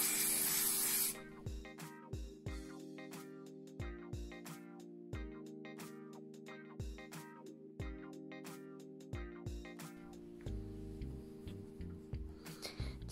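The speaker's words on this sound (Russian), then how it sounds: "Далее укладываю наполнитель и приклеиваю его при помощи клей-спрея." Spray adhesive hisses onto quilt batting in repeated short bursts with brief pauses between them, set against a steady low hum of background music, close and fairly quiet.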